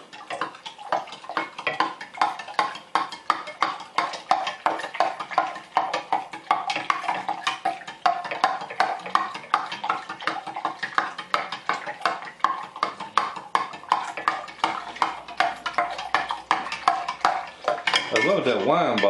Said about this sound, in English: Now all I got to do is stir that up until the sugar is dissolved.